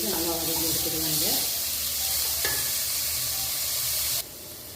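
Paneer and masala sautéing in a pan for paneer bhurji, a steady close sizzle with scraping stir strokes, talk over the first part before it drops quieter near the end.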